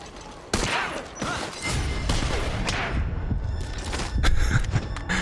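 Gunfire crackles in the stealth video game Metal Gear Solid V: Ground Zeroes, several sharp shots and bursts over a busy game soundscape, fairly loud and close, with no voices over it.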